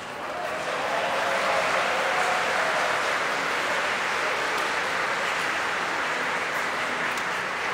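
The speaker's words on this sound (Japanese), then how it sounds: "なんかの拍手。" Steady applause from a crowd at a live in-person talk event, heard as a dense, distant-sounding wash of clapping that rises in the first half-second and continues evenly with no voices over it.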